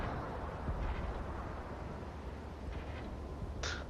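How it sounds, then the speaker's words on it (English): Artillery shells landing in World of Tanks, rumbling explosions and dull thuds scattered across a constant, noisy battle soundscape, with a sharper burst near the end. "Just the explosions, that's cool."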